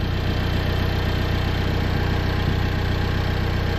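A catless Alfa Romeo 4C with a big fat muffler idles steadily, its exhaust giving a low, even burble with a faint rhythmic pulse and no throttle changes.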